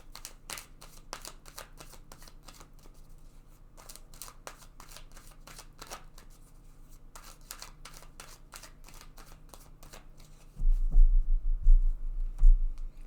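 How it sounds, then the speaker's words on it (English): Tarot deck being shuffled by hand during a card reading: a long run of rapid, crisp riffling flutters close up, ending in a few louder thumps and taps as a card is drawn and set down. "I want to take a card for this past position."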